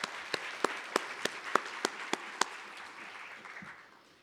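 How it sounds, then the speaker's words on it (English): Campus crowd applauding sheriffs at an opening-day gathering, with a few sharp distinct claps rising over a steady wash of clapping that fades out toward the end. "Let's give them one more round of applause."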